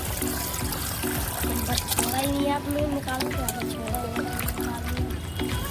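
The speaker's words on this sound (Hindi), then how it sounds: "अब इस पानी को निकालती हूँ दूसरा पानी" Water pours and trickles out of a vessel as wheat is washed on a rooftop, a steady splashing flow running under ongoing nearby talk between women.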